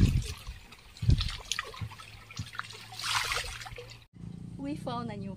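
Water overflowing and running without stopping at a camp, a steady trickling and splashing flow heard close up with people talking over it throughout.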